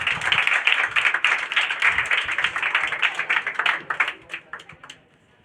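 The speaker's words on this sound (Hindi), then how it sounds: "चलिए ताली हो जाए भाई इसके लिए।" An audience clapping at an award ceremony honouring a district board-exam topper: many hands applauding loudly and irregularly, close by, then thinning to a few scattered claps before fading out.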